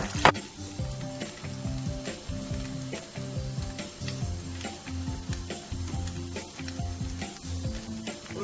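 Vegetable tempura, including purple flowers, deep-fries in hot oil with a steady, close bubbling sizzle and soft, repeated stirring sounds throughout.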